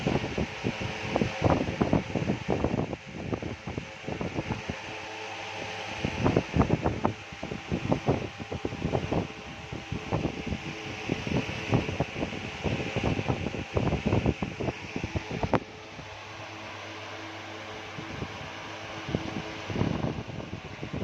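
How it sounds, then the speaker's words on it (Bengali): An electric fan running hard, its blast buffeting the microphone with strong roaring wind noise that pulses and gusts steadily throughout, close and loud with no voices. "ফ্যানটা চালিয়ে তোমাদেরকে দেখাচ্ছি, ফ্যানটা চালালে কেমন অবস্থা হয়, আর হাওয়াটার আওয়াজটাও তোমরা ফোনের মধ্যে শুনতে পাবে"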